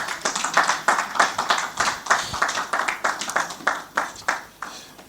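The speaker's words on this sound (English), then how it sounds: "A round of applause for her." Steady rhythmic clapping from a summit audience welcoming a speaker on stage, close and fairly loud, individual claps distinct throughout.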